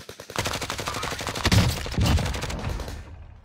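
Rapid video game gunfire rattles in dense bursts, loud and close, with a continuous stream of overlapping shots for about three seconds before cutting off.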